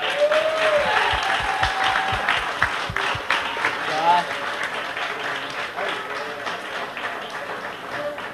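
An audience at a Down syndrome association calendar event gives a sustained round of applause for a young man, steady dense clapping filling the room while voices and a few cheers sound underneath.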